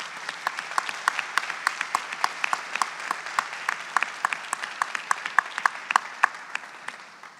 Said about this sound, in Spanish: un aplauso para la profesora Victoria Mosman